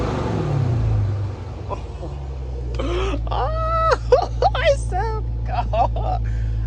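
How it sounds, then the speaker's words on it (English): A Dodge Scat Pack fitted with a JLT cold air intake idles with a deep low rumble, then blips its throttle in several short revs; a whining, whooshing intake tone rises and falls over the steady burble, close by. "I love the sound of the intake."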